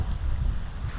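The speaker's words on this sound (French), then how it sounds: "le vent nous pousse" Wind rushes over open water from a small boat drifting with no motor, a low steady roar of gusts buffeting close to the microphone for a short moment, with no voices.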